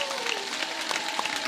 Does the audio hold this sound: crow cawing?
no